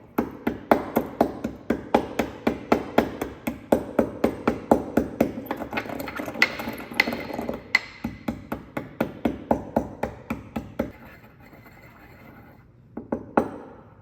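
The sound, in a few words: crushing acetaminophen tablets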